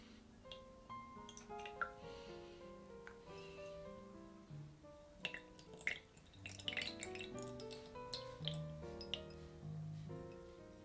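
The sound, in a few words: spoon stirring absinthe in a glass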